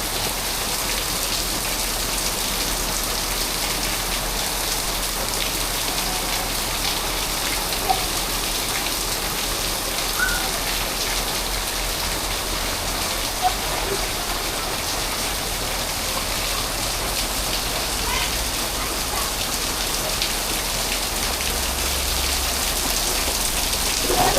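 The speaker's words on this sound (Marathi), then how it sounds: "मुंबईचा पहिला पाऊस" The first monsoon rain of the season falls in Mumbai as a dense, even hiss of drops on surfaces. The downpour is steady and continuous, with no voices.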